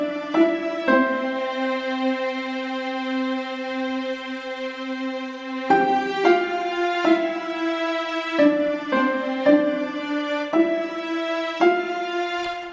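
A stock music arrangement with harp and violas playing together, all emphasizing one melody. Sustained bowed notes shift in steady phrases over plucked harp attacks, a calm, moderately loud passage with no voices.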